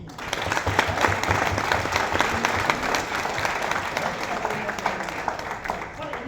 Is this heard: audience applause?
yes